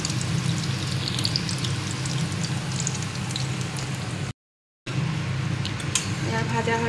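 Small fish pakoras wrapped in pumpkin leaves fry in hot oil with a loud, continuous crackling sizzle, broken by a momentary dropout near the end.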